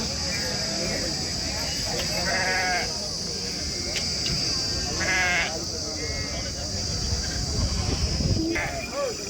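Sheep bleat repeatedly amid the busy hubbub of the crowded Macharla sheep market, with people talking in the background throughout.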